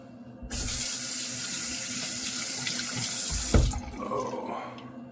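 Running tap water rinses lather out of a shaving brush knot at a sink, a steady close rush of water for about three seconds before cutting off to quieter splashes and drips.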